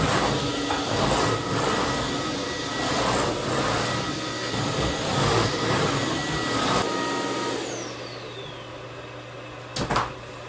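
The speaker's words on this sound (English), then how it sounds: "I vacuumed our whole main floor" Vacuum cleaner running across a home's main floor, a loud, steady droning roar with small fluctuations as it moves, winding down near the end with a couple of clunks.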